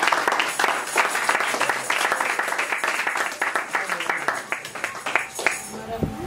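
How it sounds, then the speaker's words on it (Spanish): A church congregation claps during a worship service, giving steady, close, rhythmic applause mixed with overlapping voices that continue throughout, before the clapping tapers at the end. "Pero un aplauso a Jesús."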